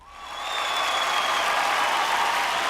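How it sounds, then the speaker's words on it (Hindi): Audience applause for actress Madhuri, a dense, steady sheet of clapping that rises quickly from quiet and holds evenly, moderately distant. "एक बार जोरदार ताली हो जाए फॉर माधुरी मैम"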